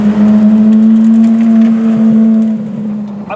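A Ferrari race car engine drones loud and close on a street, a steady low buzzing tone that eases slightly toward the end.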